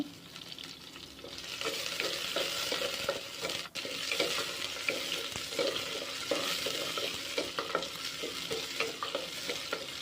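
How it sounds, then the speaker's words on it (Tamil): Curry leaves and whole spices crackling in hot oil in a pan as a tempering for small-onion sambar, with a steady sizzle, repeated spatula stirring and scraping, and one sharp metal clink, no talking. "கூடவே 2 கருவேப்பிலை போட்டுக்கோங்க. போட்டுட்டு நல்லா தாளிச்சிட்டு வதக்கி எடுத்துருங்க."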